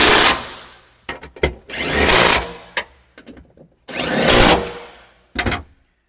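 Power tool bursts tightening bolts while fitting a false floor in a Toyota Prado 250: several loud, close whirring runs of one to two seconds alternate with short clicks and pauses, with no talk.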